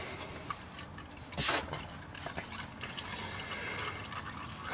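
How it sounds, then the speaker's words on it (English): Engine oil from a 2008 Chevy Duramax drips onto cardboard during an oil service, with scattered small ticks and splats over a steady low background hiss. "Let that drip for a bit"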